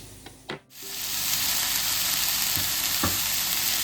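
Onion pieces drop into a pan of cooking potatoes with a couple of quick knocks, then a loud, continuous frying sizzle builds and holds steady, with occasional faint clinks of a utensil.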